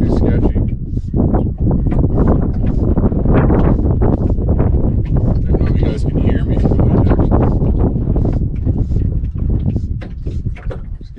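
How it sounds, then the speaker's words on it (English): Strong gusting wind at Jacko Lake in autumn buffets the microphone outdoors, a loud, rough, low roar that surges and rustles almost without pause. "It's just way too windy, too sketchy."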